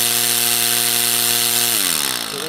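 A rebuilt Gast rotary vane septic aerator pump runs steadily and loudly, its hum holding a constant pitch and then sliding downward near the end as it slows, with no one talking.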